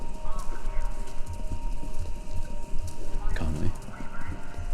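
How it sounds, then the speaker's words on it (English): Horses gallop in a race broadcast over a radio station in the game Kentucky Route Zero, with rhythmic clip-clop hoofbeats over a hum of crowd noise and a brief louder flurry partway through, while voices talk over it. "It sounds like horses. Horses are running?"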